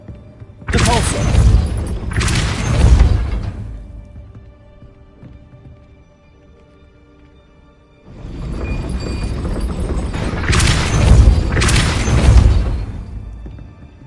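Depulso spell cast in the Hogwarts Legacy video game: two loud, broadband magical blasts, each lasting about three seconds with a double surge, separated by a stretch of near quiet.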